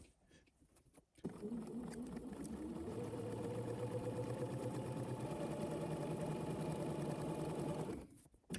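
A home sewing machine stitches along a marked line while making a garment, a close, steady motor whir that starts after a quiet moment, runs evenly for several seconds, then stops.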